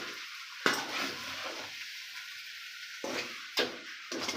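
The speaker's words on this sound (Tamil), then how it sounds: "சாப்பாடை வந்து நான் கிளறி விட்டுக்கிறேங்க." Tamarind rice being stirred in a pot, with soft scraping and sizzling in short bursts separated by brief quiet gaps.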